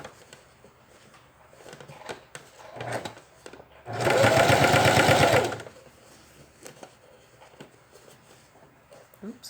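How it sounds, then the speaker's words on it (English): A sewing machine stitches fabric, staystitching and understitching a shaped facing along the seam allowance. It runs in one steady, close burst of about two seconds in the middle, with quieter handling sounds before and after. "I keep checking to make sure that I am sewing on my seam allowance"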